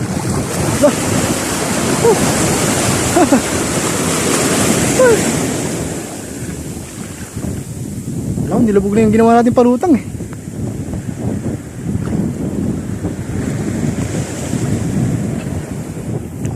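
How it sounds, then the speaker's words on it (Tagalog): Big ocean waves break and roar continuously along the sea, with heavy wind buffeting the microphone and people talking and calling out over the surf. "Oh, may makayang alon."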